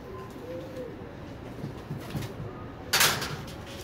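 Pigeons kept by a fancier coo softly in the background, a low steady murmur with a short clatter near the end.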